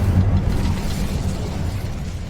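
A fiery Incendio spell bursts in Hogwarts Legacy, a loud, low rumbling blast that sustains as a dense roar for a couple of seconds with no talking.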